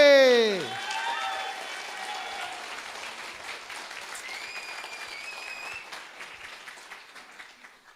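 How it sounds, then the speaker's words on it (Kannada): An audience breaks into applause after a presenter's cue at a training event. The clapping is steady and fairly close and fades gradually, and speech-like tones ring out faintly at the start. "ಒಂದ್ಸಲ ಆ ಟಾಪಿಕ್ಕಿಗೋಸ್ಕರ ಜೋರಾದ ಚಪ್ಪಾಳೆ."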